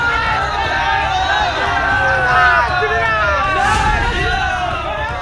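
A dense crowd packs the streets and a jammed national highway in Jharkhand's Santal Pargana during communal unrest, a loud, close, continuous babble of many overlapping voices and shouts that never lets up.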